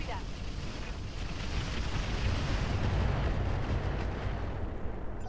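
Incendiary rounds strike a vehicle in the BattleTech mod Roguetech, a continuous, roaring wash of fire and impacts that holds steady and loud for about five seconds, with no clear breaks.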